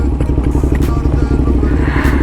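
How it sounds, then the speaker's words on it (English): Up close and loud, a motorcycle engine idles with a rapid, lumpy pulsing beat on a city street, with brief throttle blips rising through the steady chop. "Just rev it."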